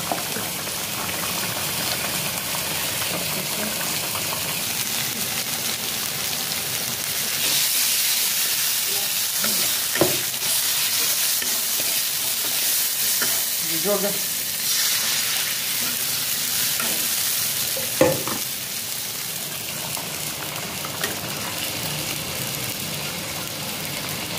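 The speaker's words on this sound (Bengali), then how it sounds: "ঝোল ফুটে গেছে।" Fish curry gravy simmers in a pan, giving a steady bubbling hiss with soft pops and a few sharper crackles along the way, close and continuous with no talking.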